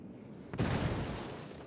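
A sudden boom erupts in a naval battle video game as an enemy battleship is destroyed, a sharp onset followed by a loud, sustained rumbling roar that lingers without fading.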